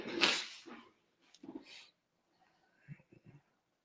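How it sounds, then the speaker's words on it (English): A single sharp, breathy sneeze bursts out near the start, followed by quieter sniffs and low murmurs. "Ooh, I got a sneeze."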